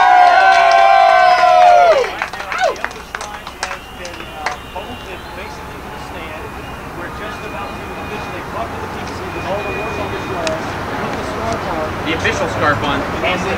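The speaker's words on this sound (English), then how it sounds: "Big cheer as soon as they say we're on top of the Capitol Records building" A crowd on the rooftop of the Capitol Records Building in Hollywood bursts into loud cheering and screaming, then thins into a sustained, more distant roar of voices with scattered whoops.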